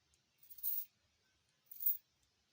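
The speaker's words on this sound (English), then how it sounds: "Then you cut. Just cut a small hole." Scissors snipping a small keyhole in kimono fabric: two short, quiet cuts about a second apart, close and isolated against near silence.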